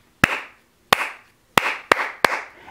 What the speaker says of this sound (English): The clapping's pretty easy. It goes like this.